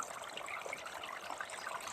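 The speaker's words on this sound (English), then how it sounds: "that trickling of water shows that the flow of water is going really slow through this beaver dam" Water trickles slowly through a beaver dam, a steady, soft, bubbling dribble heard close and alone, without any talk.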